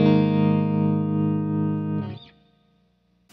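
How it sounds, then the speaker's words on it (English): An electric guitar chord rings through a tremolo pedal, sustaining loud and steady for about two seconds before being cut off, followed by a brief quieter strum and near silence. "Tremolo is basically taking the volume and pulsating it."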